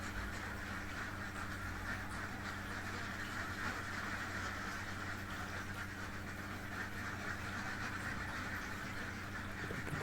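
Laying ducks in a dry-litter pen quack faintly amid a steady low mechanical hum, the birds' calls scattered and soft under the continuous drone.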